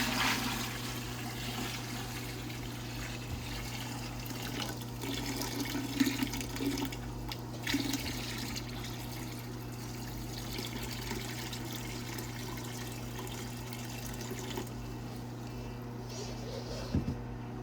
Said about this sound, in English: pour the electrolyte off into our electrolyte storage bucket here